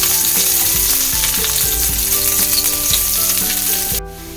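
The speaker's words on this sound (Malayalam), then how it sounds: "1 ടീസ്പൂൺ ഗ്രാമ്പു അരിഞ്ഞത് നന്നായി സോട്ട് ചെയ്യുക." Chopped cloves sauté in two tablespoons of hot sesame oil for a Korean fried chicken sauce. A loud, close sizzle runs throughout with rhythmic scraping from stirring, then drops off sharply near the end.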